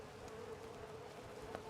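Bees building fresh comb in a new hive inside a ceiling cavity give off a faint, steady droning hum that holds at an even level throughout, with no voices.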